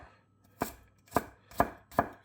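Four separate knife chops on a cutting board as carrots and onions are cut into little pieces, each chop a crisp close thud at an unhurried, uneven pace, with quiet gaps between and no talk.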